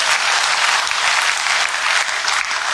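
Loud, dense audience applause at a Hindi poetry recital by Hariom Panwar, many hands clapping continuously and evenly close up.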